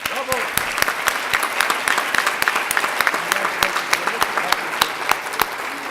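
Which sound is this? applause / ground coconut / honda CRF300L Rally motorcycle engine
applause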